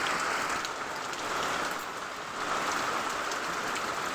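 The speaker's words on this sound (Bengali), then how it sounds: "বুঝতে পেরেছেন, খুব বৃষ্টি হচ্ছে।" Heavy monsoon rain pours down outside, an unbroken wash of dense hissing drops that stays steady and fairly close for the whole stretch, with no voices.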